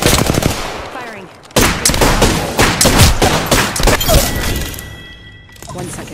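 Rapid automatic gunfire in an Apex Legends battle, loud bursts of shots rattling close by, pausing briefly before another long volley, with in-game voice callouts mixed in.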